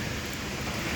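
Rain falls steadily outdoors in rural Thailand, a dense, even hiss of drops hitting surfaces throughout, with no voices over it.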